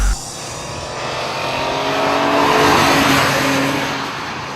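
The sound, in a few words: BMW M3 GT2 race car engine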